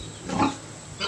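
A pig on a farm grunts twice, a short rough snort followed by another starting at the end, fairly close and with no talking over it.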